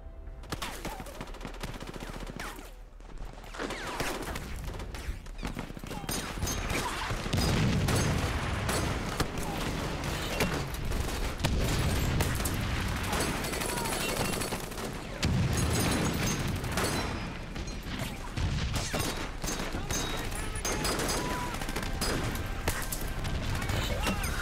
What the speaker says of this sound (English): The bombing is doing the job of killing that organisation.